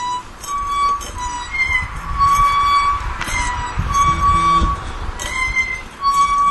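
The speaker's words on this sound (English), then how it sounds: "I was hanging out the towels today to dry, and the clothesline sounds like this." Squeaky old clothesline in a summer backyard, metal parts grinding as towels are hung out, producing repeated thin, high squeals and faint clinks at an uneven pace over background noise.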